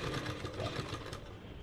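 Zigzag stitching on a sewing machine while making a salwar bottom poncha design, heard as a short, steady mechanical whir at low volume.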